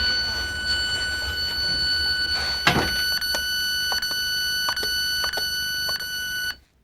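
A steady high electronic alarm tone from a Telecom Security 685 home alarm system drones throughout, broken by a loud clack and a run of short, regular beeps before it suddenly cuts off.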